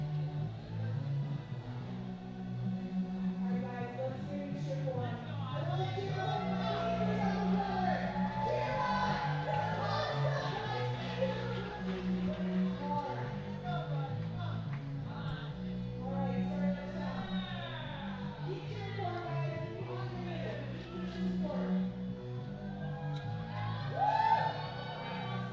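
Spectators at an indoor climbing competition calling out, whooping and cheering in a sustained crowd din, with individual shouts rising above the steady background roar and a loud burst near the end.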